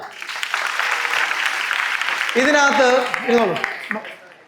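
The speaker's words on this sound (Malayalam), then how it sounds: "ഒരു ക്ലാപ്പ് കൊടുക്കുക." Audience applause fills an indoor road safety awareness programme, a steady wash of many hands clapping before a voice starts talking over it as the clapping fades.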